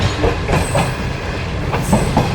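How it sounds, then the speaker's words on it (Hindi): The Shalimar Express rolls along the main line from Bahawalpur toward Karachi, a loud, steady rumble with rhythmic clickety-clack of wheels over rail joints and faint squeals, with no voices. "चलो जी, मेन लाइन पर आ गई है ट्रेन।"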